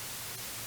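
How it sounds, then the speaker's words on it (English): Steady full-band white noise hiss with flat, even energy from lows to the top of the range, alone and constant, with no talk. "Here's white noise."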